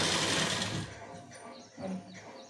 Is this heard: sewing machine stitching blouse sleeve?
yes